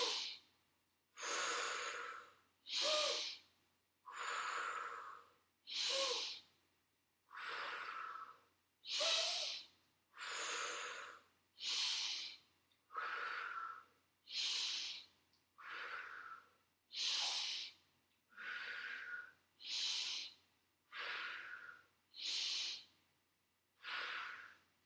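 Slow, deliberate breaths during a Pilates exercise, about fifteen even hissing inhales and exhales, close and fairly soft, each separated by a short silence.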